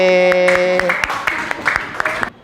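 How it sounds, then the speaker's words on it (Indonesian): A classroom of Indonesian schoolchildren, class 6C, claps together in a quick, fairly regular rhythm of sharp hand claps for about two seconds, following a brief sustained voiced tone at the start. "tepuk tangan buat 6C"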